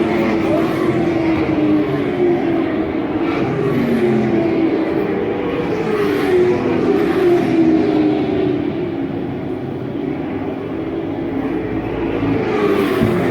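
Limited late model race cars run in a pack around an oval at a motorsports park, a steady, dense engine roar that swells and fades as cars pass, loud and continuous throughout.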